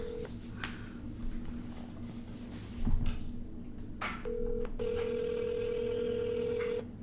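A phone call is placed, with a few faint tones and clicks, then a steady ringback tone humming for a couple of seconds, quiet in a room.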